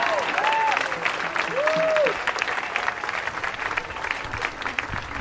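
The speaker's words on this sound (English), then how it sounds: "You can clap for that." A crowd claps steadily for a few seconds, a broad wash of applause with a few cheers or whistles near the start.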